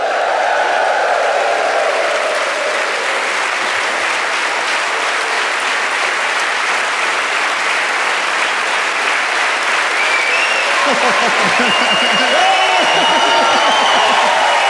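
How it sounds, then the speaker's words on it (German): A live comedy show audience in a Swiss Volkshaus bursts into sustained, loud applause and cheering, dense clapping throughout with whoops and shouts rising near the end. "Jetzt zähle ich auf 3 und dann schmeißen die Hände, klatschen, toben"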